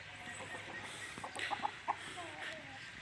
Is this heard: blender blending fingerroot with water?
no